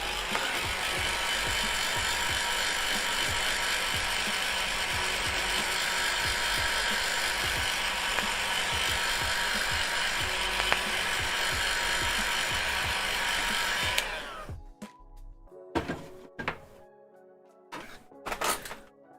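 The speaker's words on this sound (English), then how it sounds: "then got a trusty heat gun" A heat gun blowing hot air over a painted guitar gives a loud, steady roaring rush for about fourteen seconds, then shuts off, leaving a few scattered knocks and handling sounds.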